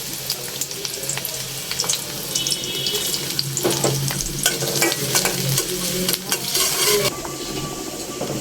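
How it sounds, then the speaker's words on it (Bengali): Onions frying for hilsa fish curry, a dense continuous sizzle mixed with stirring and running tap water, close and fairly loud throughout, with no talking. "আর এদিকে আমি ইলিশ মাছ রান্নার জন্য পেঁয়াজ দিয়ে দিলাম।"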